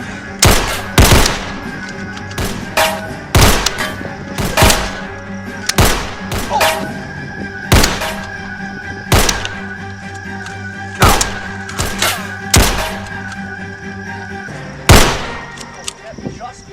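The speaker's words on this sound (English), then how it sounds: "Just keep shooting at him." Loud, close gunshots fire repeatedly at a person, a dozen or so sharp cracks at uneven intervals over a low steady hum.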